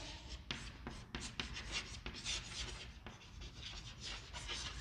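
During a geography lesson, someone writes by hand with continuous close scratching, broken by short taps and pauses between strokes, and no one speaks.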